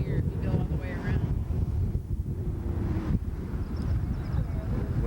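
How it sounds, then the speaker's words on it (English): Wind buffeting a microphone on a mountain roadside near a peak in Montana, a steady loud rumble filling the whole stretch, with faint voices in the background. "Windy here."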